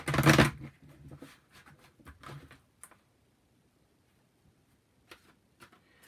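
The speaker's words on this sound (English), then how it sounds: "let's pull from the energy oracle cards. We'll pull 3 more cards" Energy oracle cards are shuffled in a quick burst of papery riffling at the start, then a few softer shuffles and sparse light card taps follow in a quiet room.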